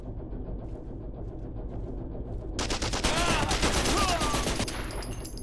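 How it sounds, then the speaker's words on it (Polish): Sustained automatic rifle fire in the shooter Mortyr 3 erupts midway and keeps rattling loud and close, over a dense rumbling game soundscape. "O, karabin automatyczny na taką imprezę jest świetny."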